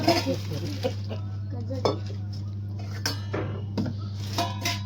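Metal kitchen utensils and a pressure cooker are handled close by, with scattered clanks and clinks of pots over a low steady hum, while people talk quietly in the background.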